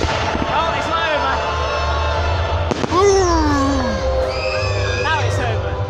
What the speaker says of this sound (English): the fireworks are still sizzling over there